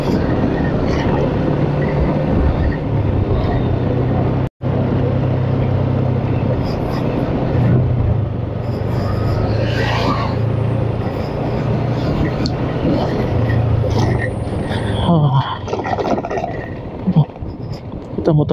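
Car engine rumble and road noise from inside a vehicle overtaking on an empty mountain road between Rancabali and Pasirkuda, steady droning throughout with wind buffeting and people talking over it.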